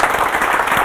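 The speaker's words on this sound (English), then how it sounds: "Let's give a big applause to" An audience at an aquascaping workshop gives a dense, steady burst of applause for the visiting guest, continuous and close throughout the brief moment.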